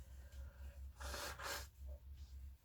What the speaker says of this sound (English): just got to blow my nose.